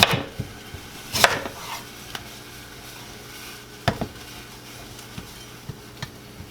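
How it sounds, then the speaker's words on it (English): A knife cuts an unpeeled potato into cubes on a cutting board: a few sharp, separate chops, with one strong hit near the start and lighter taps spread out after it, close by and with no talk. "we're gonna get the potato. We're gonna make it into cubes."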